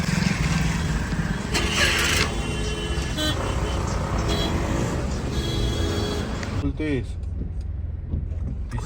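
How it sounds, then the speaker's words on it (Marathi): Road traffic backed up near Mangaon on the Tamhini Ghat route in rain: a steady, close wash of car and engine noise with occasional horn toots, and faint voices underneath. "माणगावला ट्रॅफिक लागलेली आहे"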